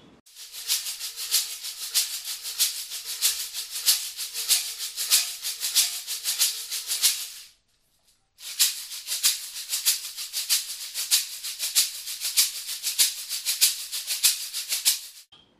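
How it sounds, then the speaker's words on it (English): A metal cylinder ganza shaker filled with small hard seeds is shaken in a fast, steady rhythm, giving a bright, hissing rattle with pulsing accents, pausing briefly midway before resuming, close and alone. "when the cylinder is shaken they hit the sides and make a distinctive high-pitched sound like this"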